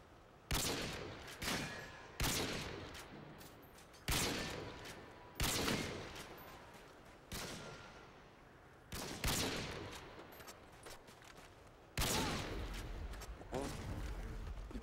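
Sniper rifle shots in Modern Warfare 2 video game crack out one at a time, about eight loud blasts spaced a second or two apart, each followed by a decaying echo and bolt-action clatter.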